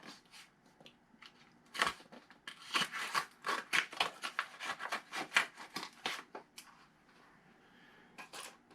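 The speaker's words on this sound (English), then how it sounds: "I have to go with the old scissors route to open the package" Scissors snip repeatedly through a comic book shipping package, a quick series of close, crisp cuts with rustling between them, no talking.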